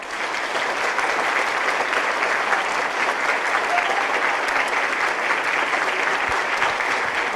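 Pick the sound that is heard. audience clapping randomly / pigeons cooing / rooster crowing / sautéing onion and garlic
audience clapping randomly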